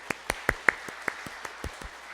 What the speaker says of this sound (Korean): 우리 인사할 때 우리 뜨거운 박수로 환영하겠습니다.